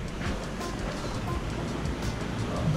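Ocean waves with four-metre swells wash around a sailboat at sea, a continuous rushing surf with wind buffeting the microphone, steady and fairly loud throughout.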